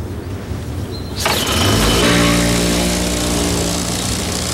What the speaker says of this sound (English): there's this easily removed and easily installed 2-stroke engine